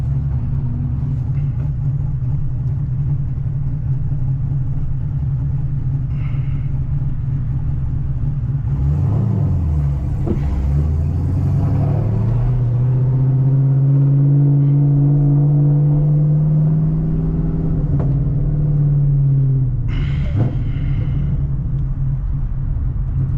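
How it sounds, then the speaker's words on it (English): A cammed six-speed Chevrolet Camaro ZL1 engine rumbles steadily, then blips and surges through a downshift with a rising, sweeping rev before easing back to a loud, close idle-cruise drone, no talk. "Fucking downshift sounds crazy."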